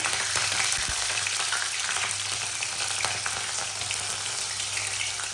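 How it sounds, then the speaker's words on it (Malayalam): Green chilies dropped into hot spices in a pan, giving a steady, bright, close frying sizzle with a brief clatter near the start. "അപ്പം നമ്മുടെ സ്പൈസസ് ഒക്കെ ഒന്ന് ചൂടായി വരുമ്പോൾ അതിലേക്ക് നമുക്ക് പച്ചമുളക് ഇട്ട് കൊടുക്കാം"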